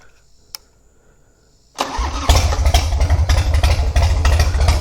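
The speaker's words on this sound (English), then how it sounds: "Let's see what it takes to crank her up." A cold FXR motorcycle engine cranks and catches after a quiet pause, then settles into a loud, close, lumpy idle with a steady pulsing beat.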